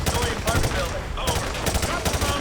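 Rapid automatic gunfire in the Call of Duty Modern Warfare 2 Remastered campaign on hard difficulty, loud sustained bursts of shots and explosions crowding the whole moment.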